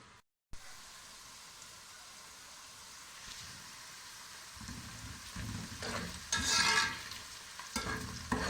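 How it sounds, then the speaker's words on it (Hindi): Onions sizzle and crackle in a hot pan while being lightly fried for Multani chicken shorba, with stirring scrapes becoming louder and busier toward the end; nobody speaks. "प्याज हल्का फ्राई हो जाए तो इसके अंदर बाकी चीज़ें शामिल करेंगे।"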